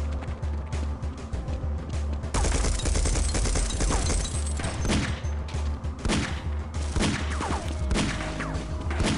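Machine gun fire in the video game Half-Life: dense, loud bursts of rapid shots with crashing impacts that continue almost without pause, briefly thinning near the start before the barrage fills the rest of the clip.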